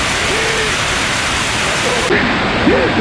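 Heavy rain pours steadily near a roadside noodle shop in Thailand during a bicycle tour, a dense, close, unbroken hiss with faint tonal sounds near the end.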